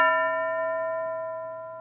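A teacher's hand bell in a classroom gives one clear struck ring that sustains with steady overtones and slowly fades, heard alone without talk.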